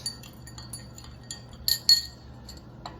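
A spoon stirring in cups of cold, warm and hot water, making light scattered clinks and taps against the cups, with two brighter clinks near the middle over a faint steady hum, no talk.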